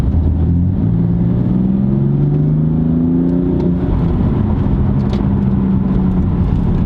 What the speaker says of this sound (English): Get the sound of that nice silky smooth S55 3-liter inline 6 BMW M engine.